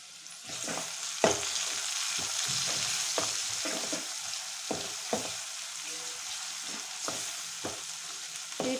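Freshly pounded spices fry in a hot pan for a home-style curry, with a steady broadband sizzle throughout and repeated sharp scraping knocks from a spatula stirring against the pan, close and clear, with no talking.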